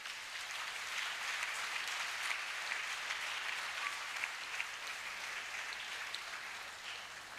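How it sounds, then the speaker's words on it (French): An audience at a national church convention in Togo applauds, giving steady, even clapping that fills the room and holds at a moderate level before easing slightly at the end. "Acclamez."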